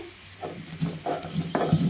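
Fried spice masala for aloo paratha is stirred in a pan, giving a soft sizzle broken by three or four short scraping stirs, close and fairly quiet, with no talking.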